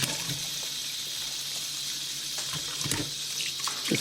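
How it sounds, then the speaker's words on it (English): Cold tap water running over sweet corn in a kitchen sink, a close, continuous splashing stream with a few brief bumps as the cobs are handled. "So the first step will be I'm going to wash with the cold water."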